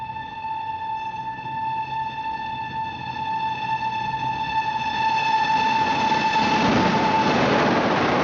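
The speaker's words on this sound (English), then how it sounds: "No, it's the express. The boat train." An express boat train rumbles past with a steady, loud horn-like whine of stacked tones, the roar of the wheels swelling toward the end as it draws nearer, from the 1945 film Brief Encounter.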